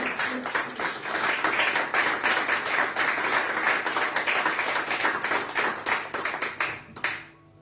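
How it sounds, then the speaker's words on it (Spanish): A church congregation claps loudly in a dense, sustained round of applause that holds steady for several seconds before tapering off abruptly near the end, with no voices over it. "Dale un fuerte aplauso al Señor."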